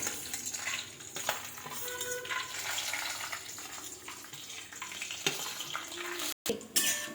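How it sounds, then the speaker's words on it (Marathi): Peanuts roasting in a pan for puffed-rice chivda, a continuous dry rustling sizzle with occasional scraping stirs, close and moderately quiet. "आता आपण शेंगदाणे भाजून घेणार आहोत"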